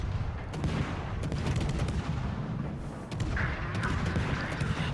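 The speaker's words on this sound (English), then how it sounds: "I'm just blind firing his last known position" Ship guns fire in the naval video game World of Warships, a gunboat destroyer lobbing salvos, with repeated booms and rumbling blasts rolling continuously under dense battle noise.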